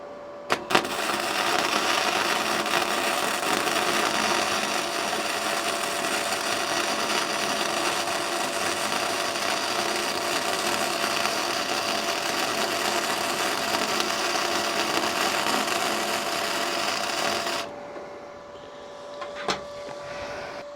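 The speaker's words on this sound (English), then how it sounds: "I'm going to run a weld down it" Gasless flux core MIG welding a bead on 3mm plate with an R Tech MIG 180, a loud continuous buzzing crackle held for about seventeen seconds, then stopping to quiet with a couple of clicks.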